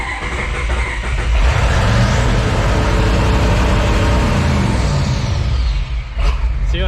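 Ford F250 twin turbo diesel truck engine starting and running, a heavy close rumble that swells and holds steady, then dips near the end.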